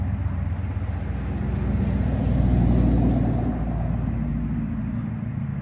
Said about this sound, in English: I'm gonna have a truck drive by here in a second